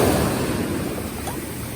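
Sea waves wash ashore at a beach on a gloomy, overcast day, a continuous broad roar of surf, fairly loud and steady, with no voices.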